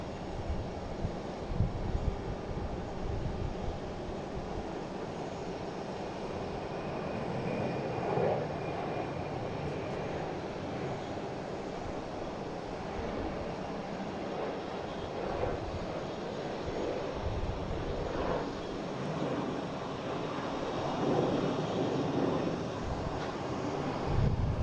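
An Alaska Airlines Boeing 737-900 in special livery at Boston Logan airport, a distant, fairly faint steady jet rumble with wind buffeting the microphone throughout.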